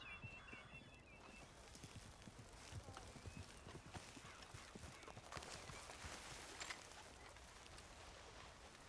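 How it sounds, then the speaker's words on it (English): Horse hooves clip-clopping at a walk, faint and distant, with birds calling and a soft outdoor ambience. "I hear horses."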